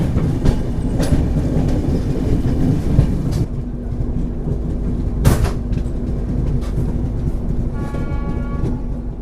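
A passenger train running on the line toward Varanasi gives a steady loud rumble from inside the carriage, with rhythmic rail clatter and occasional sharp knocks from the wheels, and no talking.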